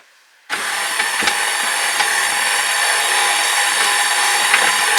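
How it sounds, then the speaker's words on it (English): A KitchenAid stand mixer kicks on and kneads a small batch of bread dough, a steady loud motor whine with rhythmic bumps, running alone without talk. "3 or 4 minutes with the KitchenAid and then 5 minutes rest"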